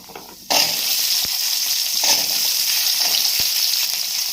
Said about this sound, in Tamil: அடுத்து இது கூட ஒரு கைப்பிடி அளவுக்கு சின்ன வெங்காயம் ஆட் பண்ணிக்கலாம்